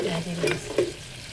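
Snails frying in red palm oil, a soft steady sizzle with a few stirring scrapes over a little more than a second, close and fairly quiet, no talking.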